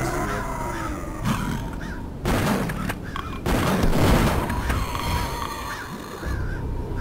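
Alien gunfire aimed at the player in Duke Nukem 3D, heard as a few loud broadband bursts of shots set against a steady game ambience.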